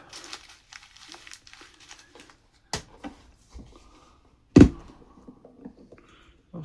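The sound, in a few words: handling crinkly packaging of RC excavator unboxing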